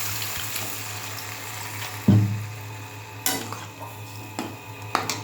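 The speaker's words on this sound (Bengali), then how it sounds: "এবারে জল ঢেলে দিলাম।" Water is poured into a cooking pot, making a sudden splashing gush partway through over a low background bubble, followed by a few lighter clatters and splashes.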